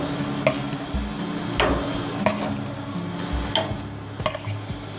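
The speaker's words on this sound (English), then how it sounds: "I'm going to just put the pork chops down." Pork chops laid on a hot outdoor grill, with a steady close sizzle and a few sharp metallic clicks and taps from tongs on the grate.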